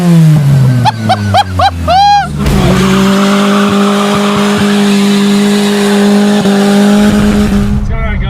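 A 1999 Toyota Tercel with a 1.5-liter engine and a cold air intake, heard from inside the car, revving loudly in rising and falling bursts before settling into a sustained drone, with someone talking briefly.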